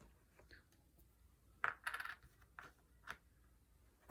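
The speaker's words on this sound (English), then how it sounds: "place 1 blue quest token on the computer terminal in tile 1" A small plastic blue quest token is set down on a computer terminal tile during Starcadia Quest board game setup, giving a few light, sharp clicks and taps on cardboard, close and quiet, with no talking.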